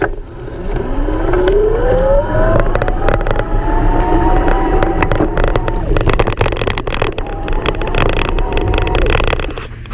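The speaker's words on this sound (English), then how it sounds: "I'm just gonna ride along this trail and hit some bumps." Electric bike ridden along a bumpy trail, with a rising motor whine, rattling thumps and jolts from bumps, and steady rolling noise throughout, loud and close.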